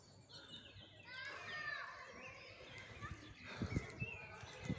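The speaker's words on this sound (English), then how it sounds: "I can hear lots of birds chirping and singing." Birds chirp and sing outdoors in a lively, overlapping chorus in Olof Palme Park in Hydra, with a few soft thumps and rustles near the end.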